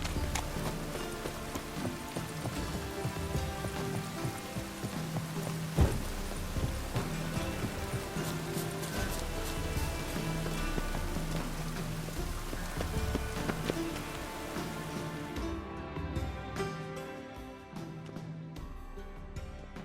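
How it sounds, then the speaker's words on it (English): Rain in The Witcher 3 pattering steadily alongside rhythmic clip-clop of horse hooves, the mix continuing for most of the stretch before the rain hiss thins out near the end. "Looks like rain."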